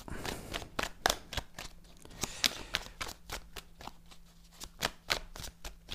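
Oracle cards are shuffled by hand in quick, crisp riffles and flicks, close and fairly quiet, with no talking.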